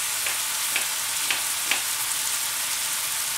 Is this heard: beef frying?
yes